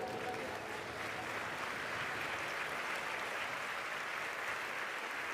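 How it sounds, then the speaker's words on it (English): A hall audience applauding as judges enter for a grand finale in London, dense steady clapping held at an even level throughout, without voices over it. "Please, round of applause for the judges."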